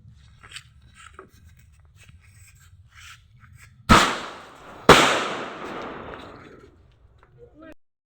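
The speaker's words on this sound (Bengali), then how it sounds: "দেখো আমার নানু বম ফুটাচ্ছে" Firecrackers at a New Year celebration, two sharp, loud bangs about a second apart, each leaving a crackling, fizzing tail, with quiet voices and small noises around them.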